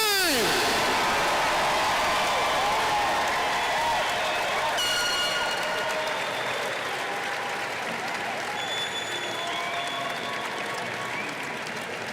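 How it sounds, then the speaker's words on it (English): Crowd applause for the graduating class of 2025 at a high school graduation ceremony, a loud, dense wash of clapping that fills the whole stretch and slowly fades, with a few cheers and a whistle over it. "Let's give a big round of applause for our class of 2025."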